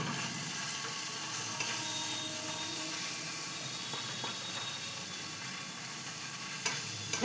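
Ginger and green chilli paste sizzles steadily in a hot pan, a constant close frying hiss with faint occasional stirring clicks and no voices.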